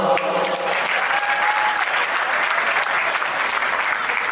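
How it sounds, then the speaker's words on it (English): A crowd in a banquet hall applauds at a Republic Day celebration, a thick, continuous roar of clapping at full strength from start to finish. "Please give everyone a round of applause"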